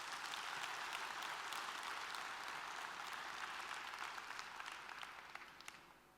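A crowd at a regional leadership training event in Malaysia claps steadily, a sustained wash of applause that slowly tapers off, heard from a distance.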